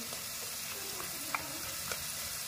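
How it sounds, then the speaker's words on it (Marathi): Spices with crushed red chilli and coconut crackle faintly in hot oil, a soft continuous hiss dotted with small pops and a couple of brighter crackles, quiet and without voices. "आता हे छान परतवून घ्यायचं. तडतड आवाज येतोय बघ छान."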